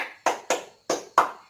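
Four crisp hand claps in a close, quiet room, two in quick succession followed by a short pause and two more, forming a classroom clapping pattern.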